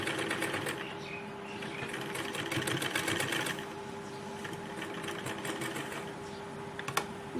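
A sewing machine runs in steady bursts, stitching lace around a fabric sleeve, heard up close with a fast, even mechanical whir and a brief pause near the end.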